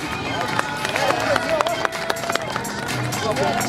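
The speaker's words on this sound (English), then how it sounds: "let's have a nice big cheer, round of applause, let's hear it for Crosser" A crowd at a motorcycle stunt display cheers and applauds in a loud, steady wash. Voices and calls blend into the noise for the whole stretch.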